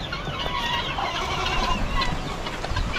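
Birds at a coop keep up a constant near chorus of soft clucking and burbling calls, overlapping and unbroken across the whole stretch, with a low rumble underneath and no talking.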